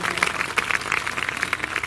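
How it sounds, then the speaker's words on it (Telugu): A church congregation at an anniversary river gathering claps together during a sermon, a brief, dense patter of many hands at fairly even loudness. "అందరూ గట్టిగా చప్పట్లు కొడదాం"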